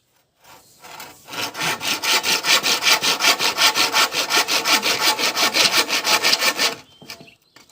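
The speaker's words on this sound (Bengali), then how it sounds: "কোরাক দিয়ে কাটো আরামে কাটো" A hand saw cutting through wood at home, with steady back-and-forth strokes repeating rapidly for about six seconds. The rasping is loud and close, and there is no talk over it.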